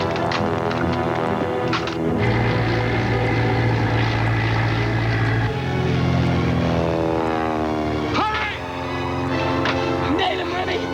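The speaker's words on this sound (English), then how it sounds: "Whose is it? German. You can tell by the sound of the engine." A German propeller aircraft engine drones overhead, a loud throbbing tone that shifts pitch as the plane passes, under raised voices and other engine noise.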